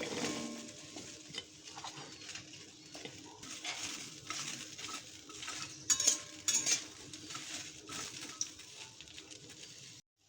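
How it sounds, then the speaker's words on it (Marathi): Cut okra roasts in a pan over a low flame, a soft, intermittent sizzle with scattered spoon scrapes and light clinks against the pan, louder clattering bursts near the middle. "ही कट केलेली भेंडी आपण मंद आचेवर भाजून घेणार आहे"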